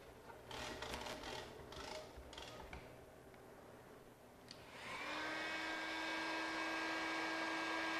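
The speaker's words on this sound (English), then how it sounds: "we're gonna just kind of play around with them with a heat gun until they flatten out." A heat gun switches on midway, its steady loud blowing whine taking over after a few quiet seconds of faint handling noises while warming window tint film on a curved side window.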